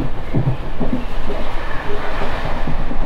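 A MEMU passenger train rolls along the Bhimavaram–Narasapur line, its carriages rumbling and clattering steadily with rhythmic wheel knocks, loud and continuous as it passes a skipped station.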